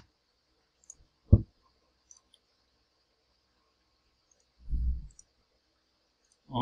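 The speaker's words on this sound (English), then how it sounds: "Okay, clicking on this button." Computer mouse clicking a button during a web security demo, with a sharp, close click at about 1.3 seconds, a faint tick earlier and a duller thump near 4.8 seconds, then quiet room.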